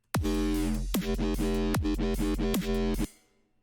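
A distorted dubstep synth chord with sidechained reverb plays in several rhythmic stabs, each with a downward pitch swoop, loud and alone, ending in a short reverb tail.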